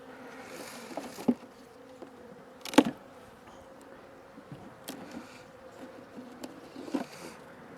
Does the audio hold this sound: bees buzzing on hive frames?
yes